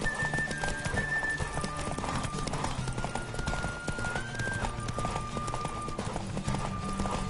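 Hooves pound rapidly in a galloping rhythm from a horse in The Witcher video game, close and steady, with a sustained musical tone running underneath throughout.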